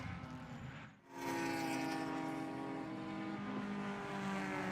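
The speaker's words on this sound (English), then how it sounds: "It sounded like somebody maybe had an exhaust issue or something, headed up into turn 1." Race cars at Hallett during a WRL endurance race, one engine running rough and off song with a possible exhaust fault, heading up into turn 1; loud continuous engine drone with a brief dip before surging back, no talk.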